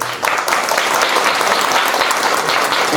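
A church congregation applauds a visiting missionary during a worship service, dense sustained clapping from many hands that fills the room and holds steady from start to finish.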